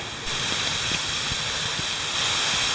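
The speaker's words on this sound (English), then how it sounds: "The first peak at Sand Cave, the waterfall over there." A waterfall at Sand Cave during rain, where the creek bed is filled with sand, heard as a loud, steady, broadband rushing hiss that stays even from start to finish.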